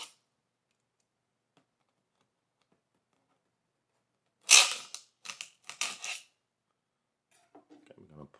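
A blade slices through two strips of packing tape sealing the box of an Asus ROG Zephyrus Duo 16 laptop, giving a cluster of sharp, close rasping bursts over about two seconds, followed by faint rustling.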